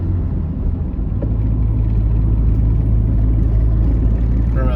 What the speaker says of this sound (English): Just doing a quick little drive around the neighborhood just to make sure everything's good.